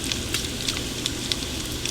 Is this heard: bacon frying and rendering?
yes